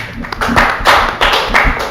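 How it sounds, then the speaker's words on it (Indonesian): An audience at an Indonesian talk event claps in several short bursts, fairly close and loud, with no talking over it. "kasih tepuk tangan dulu untuk Polres."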